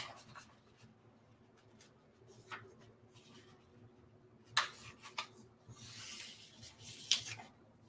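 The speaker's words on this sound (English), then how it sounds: "this time we're going to fold our paper in half this direction." Paper folded in half for an origami boat craft, soft rustles and crinkles with a few sharper creasing scrapes, quiet and close, amid faint background hum.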